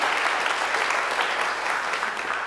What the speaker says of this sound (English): Go ahead, clap for her.